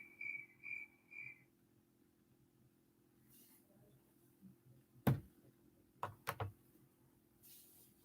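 A cricket gives three short, bright chirps at the start, followed by quiet and a few scattered knocks and thuds.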